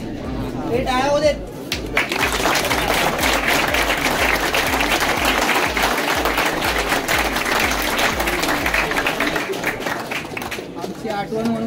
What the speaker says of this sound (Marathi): हे टाळ्या होऊ देत.